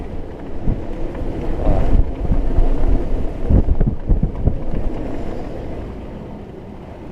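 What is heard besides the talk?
wind gusts on a sailboat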